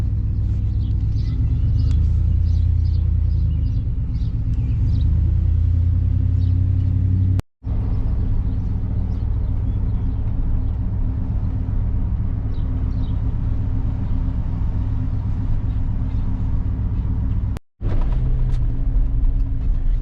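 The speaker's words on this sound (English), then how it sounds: "We're off, taking the old Chevy out for a spin." An old Chevy truck driving on the road, its engine giving a deep, steady rumble with road noise that fills the whole stretch, broken only by two brief dropouts.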